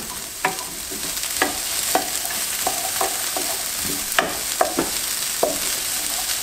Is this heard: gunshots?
no